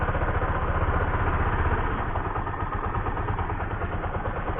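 A Bajaj Pulsar LS135 motorcycle engine idles close by, a steady, rough, low chugging rumble with a fast pulsing beat that holds throughout.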